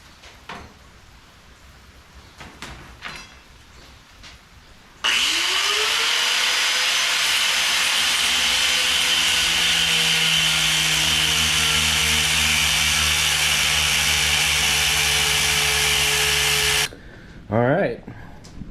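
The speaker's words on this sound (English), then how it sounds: "Helps if you plug it in the grinder." An angle grinder cutting through old cast iron, a loud steady whine that holds for about twelve seconds after a quieter start, then stops abruptly.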